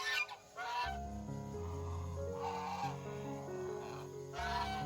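Domestic geese honk repeatedly beside a lake, a loud overlapping chorus of nasal calls close by, with several distinct honking bursts rising and falling across the stretch.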